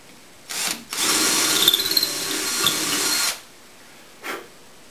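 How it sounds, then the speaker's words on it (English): A power drill whirs briefly, then bores steadily into wood for a couple of seconds with a grinding edge, followed by a short final burst; close by, no talking, during executive desk building. "Now I have the location for drilling the holes."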